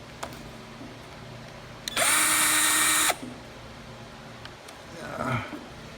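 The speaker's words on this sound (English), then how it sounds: "You can take these out with a drill," A power drill backs screws out of a B&S-style carburetor on an MTD Yard Machine, one loud high-pitched whir lasting about a second, with small clicks and handling noises around it.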